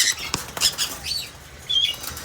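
Sun conure parrots from a breeder pair flap their wings in short, close flurries of fluttering and rustling, with a couple of faint sharp chirps in between.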